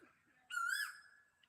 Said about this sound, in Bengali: এই মুহূর্তে হচ্ছে কুকিল পাখিটা ডাকতেছে